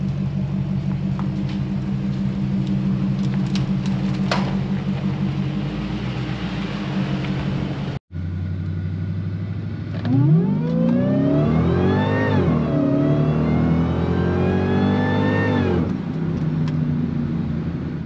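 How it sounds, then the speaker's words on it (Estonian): A 6.1 litre V8 SRT engine in a Chrysler 300C idles with a deep rumble, then revs up in several rising and falling sweeps, loud and close, with no talk over it. "meil on pikalt üks Chrysler 300C siin olnud, et auto on saanud valmis"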